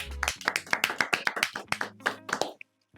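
A small group claps for a gift hamper presentation on a studio podcast game show, giving about a dozen crisp, close hand claps in a quick uneven rhythm that stop abruptly near the end.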